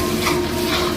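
Chicken masala frying in a pan while being stirred, a close continuous sizzle with soft scraping of the spoon.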